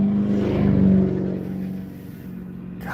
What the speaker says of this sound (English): every other car out here sounds like a rocket